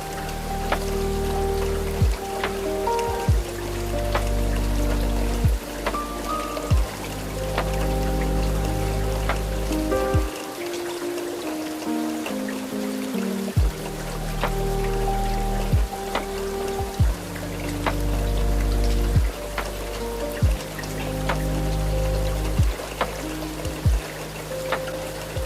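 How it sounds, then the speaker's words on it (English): Heavy rain patters and streams against the glass of a night train crossing the Scottish Highlands, a constant wash over a low rumble. The rumble drops out briefly partway through, and sharp little clicks recur. "the reliable sound of rain that means the world is doing what the world does, steadily outside"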